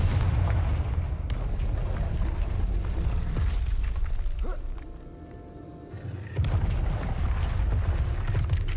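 A loud, sustained magical blast from the Confringo spell in Hogwarts Legacy, a booming explosive roar that dips briefly and then surges again, heavy and close with no talking.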